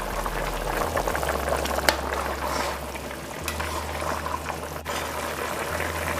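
Lamb pepper pot simmering and bubbling steadily in a pot, a continuous close, moderately loud wash of boiling liquid with a few brief clinks from a spoon or lid.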